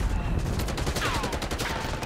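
Dense gunfire from the Call of Duty: Black Ops 6 beta, a steady loud fusillade of overlapping shots filling the whole stretch with some voice mixed underneath.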